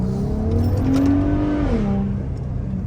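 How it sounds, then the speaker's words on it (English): A 2021 Ford Raptor pickup truck engine revs up in Baja mode with a deep, throaty exhaust roar, swelling and then easing back over a few seconds. "You can hear the exhaust valve works in Baja mode."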